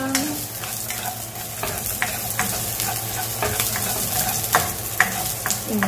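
Garlic sautéing and sizzling in a hot pan for chicken tinola, with steady frying crackle and intermittent stirring scrapes, close and fairly loud, no talking.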